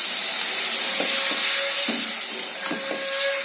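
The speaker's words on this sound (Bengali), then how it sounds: "এবার আমি এতে জল দিয়ে দেবো।" Water poured into a hot pan of cooking spices gives a steady, loud sizzling hiss, with a few soft crackles and pops scattered through it.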